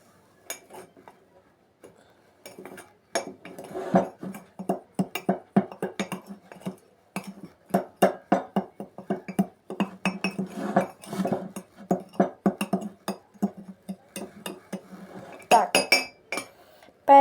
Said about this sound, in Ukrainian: Тепер всі сухі інгредієнти треба перемішати.